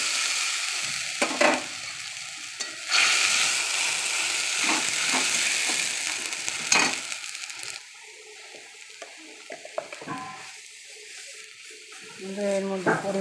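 White mustard paste sizzles and spits in hot oil in a pan while khesari lentil fritter batter is being prepared, a steady broadband frying hiss with a few sharp clinks and stirs, fading quieter in the second half.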